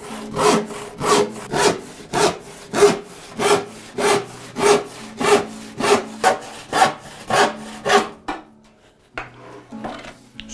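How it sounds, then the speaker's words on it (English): Card scraper shaving brass in a steady run of about twenty rhythmic rasping strokes, close and fairly loud, ending in a brief pause and a couple of softer scrapes. "You can shave brass with a card scraper."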